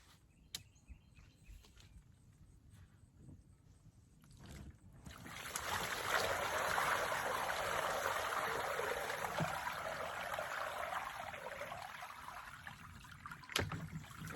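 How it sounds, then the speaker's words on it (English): Water runs through a small hand-made channel in a greenhouse garden bed, starting as a faint trickle and swelling after a few seconds into a steady, close, rushing flow that continues without talk. "Okay, I created a small river out here"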